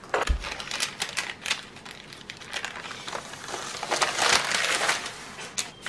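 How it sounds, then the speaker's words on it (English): Parchment paper is handled over a baking sheet while making a pumpkin coffee cream roll. It gives continuous crinkling and rustling with sharper crackles, close and moderately loud. "we're going to cover it with another parchment piece"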